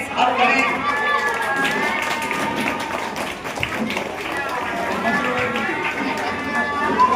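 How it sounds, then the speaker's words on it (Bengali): An audience claps at a public meeting at Ramnagar Atul Vidyalaya school, a dense, sustained patter of applause that carries under someone speaking into a microphone. "একটু হাততালি।"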